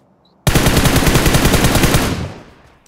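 A sustained machine-gun burst from a shooter video game starts abruptly and rattles loud and rapid for about a second and a half, then trails off into a fading echo.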